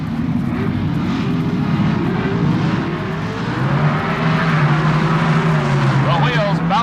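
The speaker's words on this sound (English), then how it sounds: "The wheels bouncing off the pavement as Iaconio pulls a bit of a lead" Drag racing cars at the 1978 NHRA Gatornationals, one an American Motors AMX, launching from the line with a loud sustained engine roar that rises in pitch as they pull away, under a commentator's voice.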